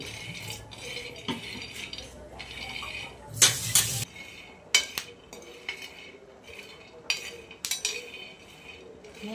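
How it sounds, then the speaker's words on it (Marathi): Dry, home-shelled peanuts roasting in a pan for a Maharashtrian chutney, with dry rattling and clinking as they are stirred, in uneven bursts and a few louder scrapes and knocks against the metal, close by. "आपल्या घरचे शेंगा फोडलेले आहेत ना तर मस्त वाळलेले आहेत त्याच्यामुळे आवाज मस्त येतो"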